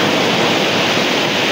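Sea waves off the coast of Palawan roll in as a loud, continuous wash of surf, steady throughout with no talking.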